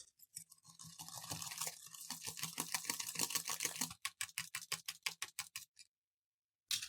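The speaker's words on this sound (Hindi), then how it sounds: "अब चीनी को भी हम अंडों के अंदर बीट करेंगे।" Powdered sugar being beaten into eggs with a whisk or beater for homemade atta biscuits, a steady rapid clatter against the bowl that breaks into distinct sharp taps before stopping, then one last brief burst.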